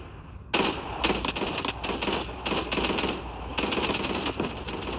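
Rapid automatic gunfire from the video game Call of Duty, loud bursts of rattling shots separated by short gaps, repeating steadily through the whole stretch with no talk over it.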